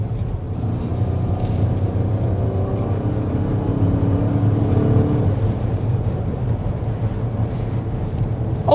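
A 2025 Lincoln Nautilus hybrid SUV accelerates steadily, its engine and road noise holding a loud, even drone throughout with no talking.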